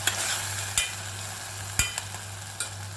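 A spoon stirs beetroot and tomato masala frying in a pan, a steady sizzle broken by a few sharp scraping knocks against the pan, close, with a low hum beneath.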